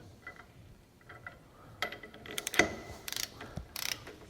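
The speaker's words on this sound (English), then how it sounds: "as I'm torquing this down and getting a good hard torque on it" A torque wrench set to 100 foot-pounds tightens a high-pressure fuel rail ball tube on a 6.0L Powerstroke held in a vise, producing sharp metallic clicks and quick ratchet bursts up close.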